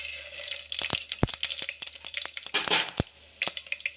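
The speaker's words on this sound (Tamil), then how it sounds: "இப்போ நம்ம கடுகு போட்டுக்கலாம்" Mustard seeds splutter in hot oil alongside fenugreek while a lentil dumpling kuzhambu is being made, giving close, irregular sharp pops and crackles over a soft sizzle, with no talking.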